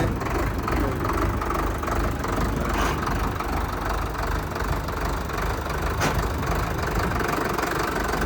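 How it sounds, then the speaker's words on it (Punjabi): An Indofarm 3055 tractor engine idles steadily with a low, rough, knocking rumble throughout, close by and continuous. "ਆਵਾਜ਼ ਬਹੁਤ ਘੈਂਟ ਆ ਬਾਈ ਟਰੈਕਟਰ ਦੀ"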